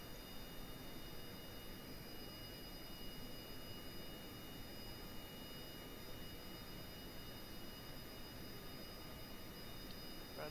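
Rocket engine thrusting in the video game Kerbal Space Program, a steady, dense, roaring rumble that holds at an even level throughout with no breaks.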